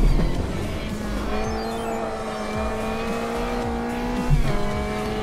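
Race car engine in a racing video game, revving and droning steadily at close range with shifting pitch, tire noise underneath and a sharp gear change near the end, no talking.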